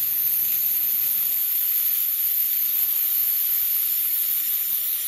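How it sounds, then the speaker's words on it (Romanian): Steady aerosol hiss of contact cleaner spray being applied to a car part, continuous and close for several seconds with no talking. "s-au curățat cu spray de contact"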